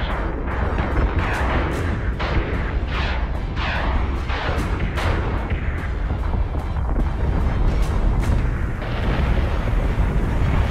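Sustained spaceship weapons fire and hull impacts in Battlestar Galactica Deadlock, a dense rolling barrage of booming blasts and thuds, loud and continuous with repeated sharper hits over a heavy low rumble.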